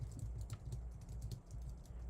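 Keys tapping on a computer keyboard in a steady, close run of quick clicks while entering a search for a BMX brand, with no talking.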